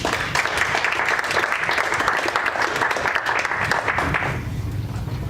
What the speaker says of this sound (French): Je vous demanderai de bien vouloir les applaudir.